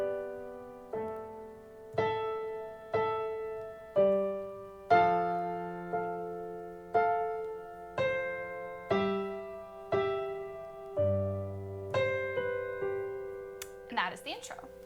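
Solo piano plays the intro of a song as a steady, evenly paced chain of struck chords roughly one per second. Each chord rings and decays, and a brief flutter of higher notes comes at the end.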